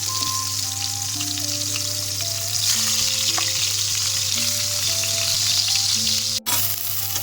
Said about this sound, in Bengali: বেগুনটা প্রথমে এভাবে হলুদ দিয়ে তেলের মধ্যে ভেজে নিলাম।